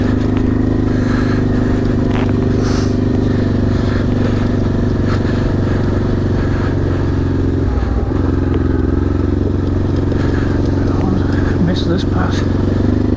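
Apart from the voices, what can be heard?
Honda Transalp XL600V motorcycle riding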